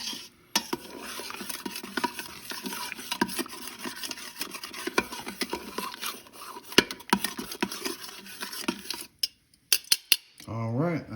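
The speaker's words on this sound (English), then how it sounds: "Scrape off that fond down at the bottom. You see it start to release from the bottom of the pan." Metal utensil scraping browned fond off the bottom of an Instant Pot pan while making pork carnitas, a steady close rasping and clinking that runs for several seconds before trailing off into a few separate knocks.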